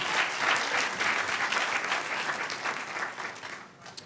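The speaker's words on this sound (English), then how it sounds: "Huge round of applause for Mitch." Audience applause at the HOPE Number Nine hacker conference during 2012 lightning talks: dense, steady clapping that fills the room, fading slightly toward the end, with no voices over it.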